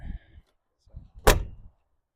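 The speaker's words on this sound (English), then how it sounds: "Your door should probably shut a little harder." A 1980-1996 Ford F-150 pickup door with new seals shuts with a single solid thunk, preceded by brief low rustling and handling noises, close by.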